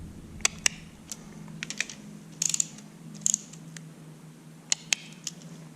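A torque wrench clicks while fastening timing chain components on a Ford F550 V10 engine under assembly, giving a handful of sharp, close clicks spread irregularly over a faint low hum.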